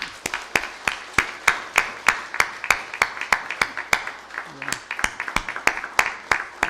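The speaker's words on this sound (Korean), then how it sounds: "박수하겠습니다." A congregation claps in a slow, even rhythm at a church baptism ceremony, each sharp clap distinct and repeating about three times a second, with a short murmur of voices in the middle.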